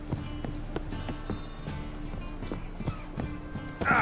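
Horse hooves clip-clop in The Witcher 3 in a steady, moderately loud walking rhythm of repeated sharp knocks over a low continuous ambient bed, with faint game sounds in the background.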